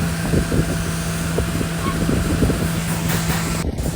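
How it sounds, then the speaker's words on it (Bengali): Wind blows across the Padma riverbank at Harirampur, Manikganj, buffeting the microphone in a constant rough rush, with a low engine drone from boats on the river running beneath it. "সত্যি বাতাস আছে আজকে"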